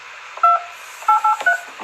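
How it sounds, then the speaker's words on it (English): A phone number is punched in on a keypad, producing a quick series of loud, close touch-tone beeps in irregular rhythm, heard alone without talk. "Philip, I'm calling you."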